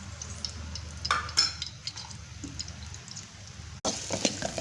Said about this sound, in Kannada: ಈರುಳ್ಳಿ ಮತ್ತು ಬೆಳ್ಳುಳ್ಳಿನ ಹಾಕೊಂಡು ಫ್ರೈ ಮಾಡ್ಕೊಳ್ಳೋಣ